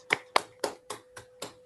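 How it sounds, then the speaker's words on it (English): Online seminar attendees clap to thank the speaker: six distinct, evenly spaced claps at moderate volume, close to the microphone, with a faint steady hum beneath and no talking. "unmute yourself and thanks the speaker by clapping"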